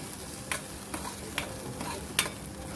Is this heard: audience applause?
no